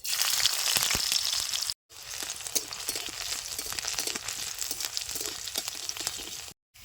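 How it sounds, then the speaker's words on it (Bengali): Onion frying in hot mustard oil with a pinch of black cumin in a wok, heard as a steady, close crackling sizzle that runs for most of the stretch and breaks off for two brief gaps. "পেঁয়াজটা সুন্দর বেশ লাল লাল করে ভাজা হয়ে গেছে"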